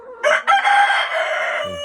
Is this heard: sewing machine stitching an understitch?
no